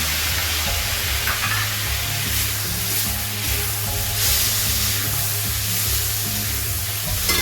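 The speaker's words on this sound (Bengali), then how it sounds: "এবার আমি দিয়ে দিচ্ছি এর মধ্যে কাঁচা লঙ্কা চেরা আর টমেটো কুচি।" Slit green chilies and chopped tomato hitting onions already frying for mutton fry, a loud continuous close sizzle with bubbling crackle and faint stirring throughout.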